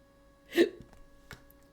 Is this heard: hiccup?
yes